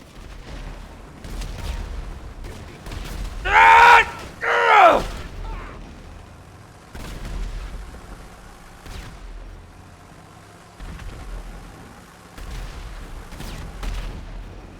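Gunfire in GTA V roleplay on NoPixel: scattered shots and bursts, including a pair of loud close blasts near the middle and quieter distant cracks around them, with faint mechanical clatter and no clear talk.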